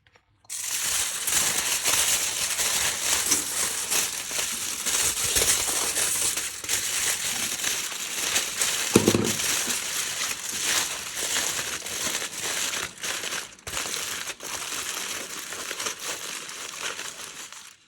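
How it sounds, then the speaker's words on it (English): Aluminium foil is crumpled and pressed into a ball, producing a continuous, loud crinkling and crackling close by, with dense rustling bursts and brief pauses, and no talk. "I push the foil a bit."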